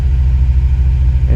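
A 2000 Ford Windstar 3.8L V6 with a misfire and lean condition runs at raised RPM, giving a steady, close, low engine hum with a faint uneven pulse and no speech.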